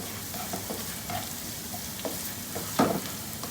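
Food sautéing over a high flame gives a continuous close sizzle, with occasional stirring scrapes and one sharper clatter near the end, and no voices.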